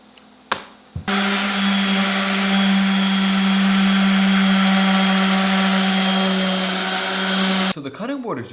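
Close, loud whine of a router trimming the jagged edge of a wooden cutting board, one steady high-pitched cut of about seven seconds that starts and stops abruptly, with a brief clatter before and after.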